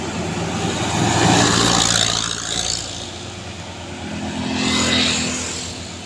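A Colt Diesel truck revs hard while climbing an extreme uphill road, its engine roaring in two loud surges with a rough, throaty rumble and a brief dip between them, close by.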